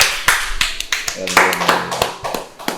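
A few people in a podcast studio clapping for a guest, sharp, close, irregular handclaps, with voices talking over them.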